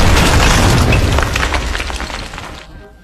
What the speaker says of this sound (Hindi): लू डैन ने जल्दी से बम उठाया और फेंक दिया